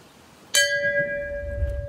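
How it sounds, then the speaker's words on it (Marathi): A single bell is struck once at a stop on the way to Kudpan waterfall in the Konkan, ringing out loud and clear and then fading in a long, steady, humming decay. "थांबा, ही घंटी वाजवायची आहे."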